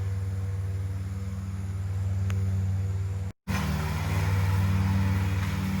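Tractor engine running on a wooded hiking trail, a steady low droning hum throughout, briefly cut off for a moment before resuming slightly louder.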